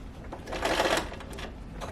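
Sewing machine stitching a sofa slipcover, sewing over pins on a curved seam, a brief close burst of rapid mechanical needle clatter swelling in the middle of the clip and then easing off.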